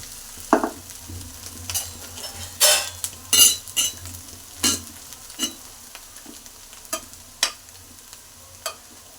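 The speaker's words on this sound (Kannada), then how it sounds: "ಇವಾಗ ಬೇಯಿಸಿರುವಂಥ ಅನ್ನನ ಹಾಕೋತೀನಿ." Cooked rice goes into a hot pan and is stir-fried for egg rice. Soft sizzling runs under a series of sharp scraping and clacking strokes from a spatula against the pan, spaced irregularly through the stretch.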